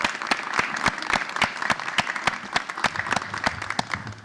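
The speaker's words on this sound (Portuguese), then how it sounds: "Salve de palmas pra Maria Luísa enquanto isso" Applause from a small studio audience at a poetry podcast recording, a sparse run of distinct, evenly spaced hand claps, fairly close and moderate in volume, with no voices over it.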